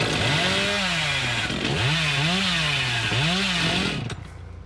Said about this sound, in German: Hey, Kettensägensprint!